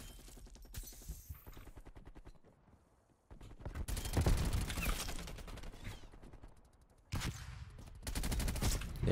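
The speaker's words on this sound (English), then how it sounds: "Yeah, this gun's going off right now." Rapid automatic bursts from a Groza rifle in Black Ops Cold War crackle in dense, close fusillades. A sustained stream of shots gives way to a brief quiet, then heavy volleys return louder in two long stretches.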